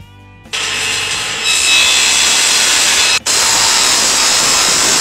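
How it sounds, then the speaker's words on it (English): A table saw fitted with a crosscut sled makes a tiny cut in wood. The motor spins up into a loud, steady whine with a harsh cutting rasp, a brief drop near the end, then the sound resumes. "and I'm going to make a tiny cut."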